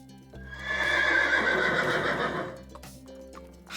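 A horse gives one loud, close whinny that rises and trembles before fading, with a few hoof clip-clops and rustles after it.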